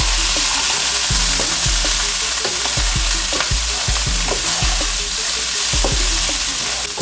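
Food sizzles and fries steadily in hot cooking oil in a pan, with a constant loud crackle and the repeated clink and scrape of a utensil stirring and turning it.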